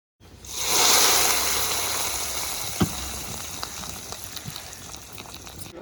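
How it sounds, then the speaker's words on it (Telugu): Cumin, mustard seeds, urad dal, garlic and dried red chillies for a dal soup tempering hit hot oil with a sudden loud hiss that slowly eases into crackles and small pops. "ఇలా తాలింపు సామాన్లు వేసుకొని తాలింపు పెట్టేసుకోవడమే జీలకర్ర ఆవాలు మినపప్పు వెల్లుల్లిపాయలు ఎండుమిర్చి వేసుకొని మిక్స్ చేసేసుకుందాం"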